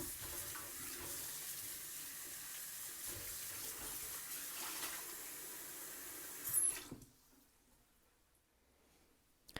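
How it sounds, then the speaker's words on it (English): Tap water runs steadily into a sink while vegetables, potatoes among them, are rinsed, then the flow stops abruptly and the room falls nearly quiet. "Now let's rinse our veggies."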